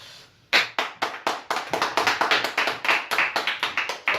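High school students in a math classroom clap in a steady run of sharp, evenly spaced claps that start abruptly after a short quiet moment, close and fairly loud, with no talking.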